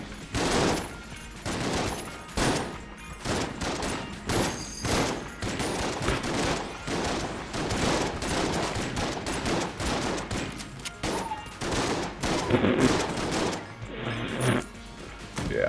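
Enemy shotgun fire in the video game Enter the Gungeon, a relentless barrage of blasts and impacts coming in uneven clusters, loud and crowded throughout.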